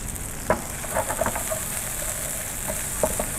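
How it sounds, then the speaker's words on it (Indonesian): Bruised lemongrass, galangal and two bay leaves sauté in a pan with a steady, loud sizzle, broken by occasional scraping stir clicks up close. "Kita tumis."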